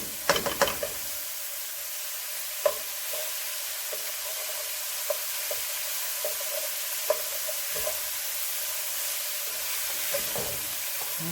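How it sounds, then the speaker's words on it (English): Zucchini-noodle pasta primavera vegetables sizzle steadily in a pan over medium heat, a constant frying hiss broken by scattered soft clicks and stirring taps, with no talking. "I'm just letting all these cook down together."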